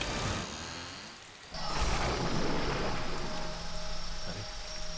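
Steady heavy rain roars throughout, swelling louder after a brief lull, with a low rumble of thunder underneath.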